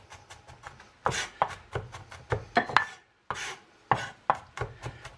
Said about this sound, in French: On le hache un peu